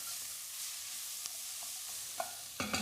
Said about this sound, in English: Give it a good stir up, just to kind of loosen those juices off the base of the pan.